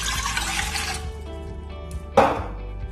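Water pours into a bowl for petulla bread dough, a brief splashing stream for about a second, followed by quiet and a sharp clink of a container near the end.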